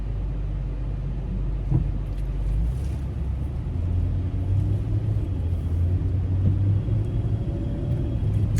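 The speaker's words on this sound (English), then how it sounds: "I'm waiting on a car to come by." A car passing by on a residential road, a low steady rumble of tires and engine that swells slightly as it goes by, with no talking.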